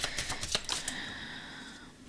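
Tarot cards are drawn from a deck in a quiet room: a quick run of soft, crisp card flicks and taps, followed by a faint fading rustle.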